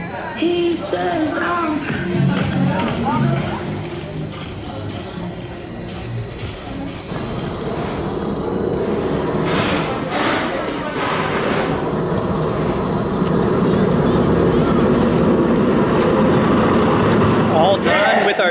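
A rider on the Steel Force roller coaster at Dorney Park hears rushing wind and rattling track noise throughout, with clattering bursts and a louder stretch near the end, and voices and shouts mixed in.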